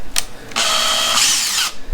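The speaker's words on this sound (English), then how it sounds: "Drill yourself a pilot hole through." A power drill boring a pilot hole while a Prinsu CabRack roof rack is fitted to a 3rd gen Toyota Tacoma: a short burst of whine, then a loud sustained high whir of about a second and a half, close up.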